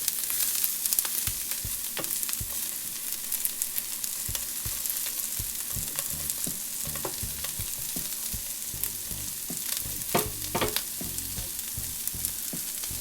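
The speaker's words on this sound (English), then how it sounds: "So you just want to soften up the carrots and the onions and get that garlic in the oil" Carrots, onions and garlic sizzle in oil in a pan, with a constant close frying hiss broken by occasional crackles and light stirring clicks, with no voices.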